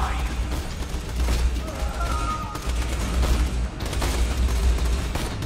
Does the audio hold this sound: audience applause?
no